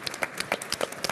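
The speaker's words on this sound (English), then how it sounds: "please, a round of applause." Applause from a conference audience, a short burst of many hands clapping at moderate loudness with no talk over it.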